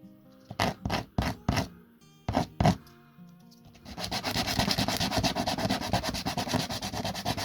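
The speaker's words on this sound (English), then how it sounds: "a couple of rubs on some sandpaper, just take off" Sandpaper rubs off the rounded edges of small model-ship hatches: a few separate, crisp strokes first, then a faster, steady run of close scratchy rubbing.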